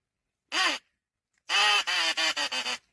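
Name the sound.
duck call imitating duck quacks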